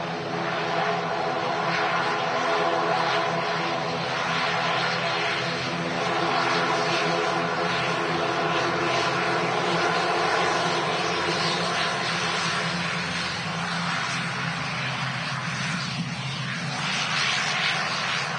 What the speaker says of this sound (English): This time a Flybe Dash 8 in from Newquay.